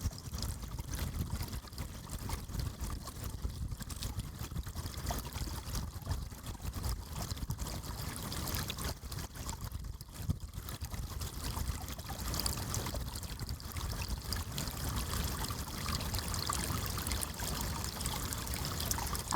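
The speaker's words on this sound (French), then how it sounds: "j'espère que vous entendez l'eau qui ruisselle" A small, shallow brook trickles and babbles steadily outdoors, a continuous moderate wash of running water with no voices, holding an even level throughout.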